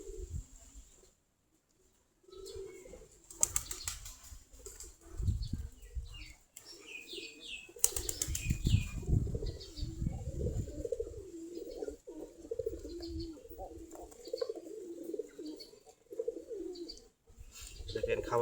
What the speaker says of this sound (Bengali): সবগুলাই দেশি গিরিবাজ কবুতর, সবগুলা দেশি জাত।